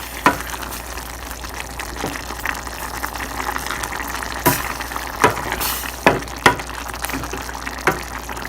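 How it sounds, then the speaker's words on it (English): Keema minced meat sizzles steadily in a pan over medium-high heat, a constant frying hiss broken by sharp scraping clacks as a spoon stirs and knocks against the pan every second or so. "keep coming back and stirring it, and it's cooking on medium to high heat"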